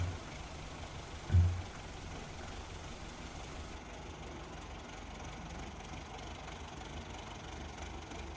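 A tractor engine idles with a steady low rumble throughout. A single soft thump stands out early on, and no voices are heard.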